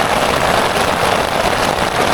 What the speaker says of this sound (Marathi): पाऊस पडतो जोर जोरात विजा कडकडत आहे